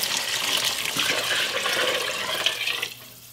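Water pours steadily into a soup pot on a stove burner, a continuous splashing rush for about three seconds that stops abruptly.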